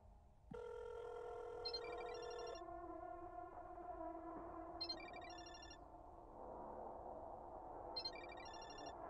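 A phone rings in a video game, sounding in short high repeated bursts at intervals over a droning tonal music bed, three separate ring bursts spread across the span with no talking.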